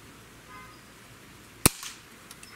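A single sharp crack from a Diana LP8 Magnum Tactical Carbine .177 caliber breakbarrel air gun fired at an orange egg target outdoors, a brief loud report followed by faint rattling afterward in a quiet setting.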